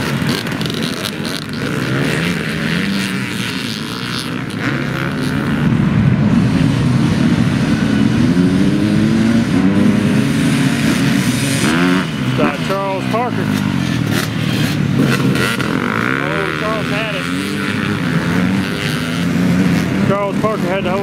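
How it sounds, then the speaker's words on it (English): A racing motorcycle engine at a youth and junior race meeting is started and revved, a loud continuous engine drone with rising and falling revs and other bikes around it, under an excited commentator talking throughout. "Oh, Al got his bike started."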